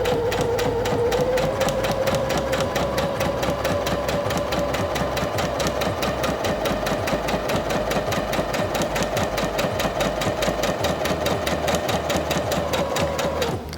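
A Singer Featherweight C240 sewing machine sews forward in one continuous, close, loud run with a fast, even mechanical ticking throughout and no voices.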